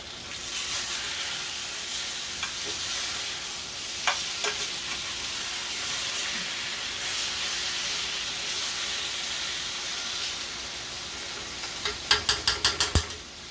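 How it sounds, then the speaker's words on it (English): Squash frying in a pan, a steady close sizzle and hiss running throughout, with a few light clinks and a quick burst of scraping taps near the end as it is flipped, no talking. "Let me flip this squash."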